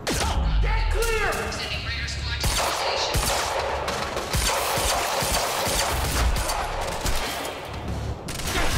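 Rapid gunfire and bursts of automatic weapons in the video game Quantum Break, dense and loud across the whole stretch, with crashing impacts and shouted voices mixed in.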